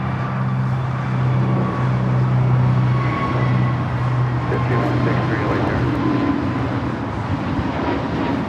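A Boeing 747 jet taxis closer along taxiway Lima at LAX, a steady low engine rumble and whine holding throughout under faint background noise, with a voice speaking over it.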